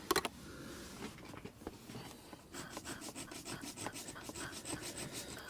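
Hand cutting on a Rover 75 / MG ZT thermostat housing, a faint close rasping and filing scrape with short irregular strokes that settle into a quicker steady rhythm, no talk.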